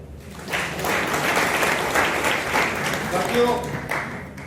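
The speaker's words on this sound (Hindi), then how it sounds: "बच्चे के लिए तालियां लगा दो।" Indoor audience claps for a child after a general knowledge question, a dense burst of applause with voices speaking over it, swelling then easing slightly near the end.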